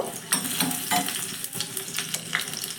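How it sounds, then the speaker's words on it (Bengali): Small pieces of ginger frying in mustard oil in a tadka pan, a close, continuous sizzle with scraping stir strokes every so often. "আদাটাকে একটু নাড়াচাড়া করে ভেজে নেব"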